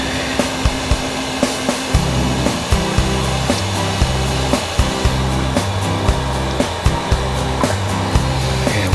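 A heat gun blows hot air onto hardened old parts of an Ironhead Harley Sportster XLCH that was stored for 34 years. Its steady loud whir runs throughout, with a wavering hum and small regular clicks.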